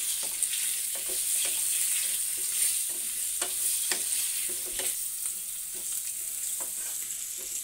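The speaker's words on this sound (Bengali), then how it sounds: "দেখুন, আলুটা আমার লাল লাল করে ভাজা হয়ে গেছে" Potato pieces coloured with turmeric fry in hot oil for a goat meat curry, with a steady bright sizzle and repeated scraping stirs of a spatula in the pan, close and continuous, with no talking.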